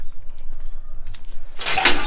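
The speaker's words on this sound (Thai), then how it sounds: "อ่าอันนี้ผมเปิดประตูนะครับ เสียงเปิดประตู" A door is opened at a country garden house on a quiet afternoon: near-silence, a faint knock, then a short, close burst of rattling, scraping noise at the very end.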